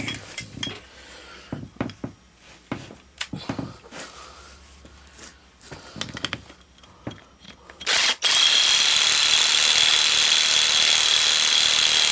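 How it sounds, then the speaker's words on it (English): A metal wrench is dropped onto a mower deck during assembly of a 50 inch deck, giving scattered metallic clanks and clatters, followed by a loud sustained broadband hiss near the end. "And then drop the wrench."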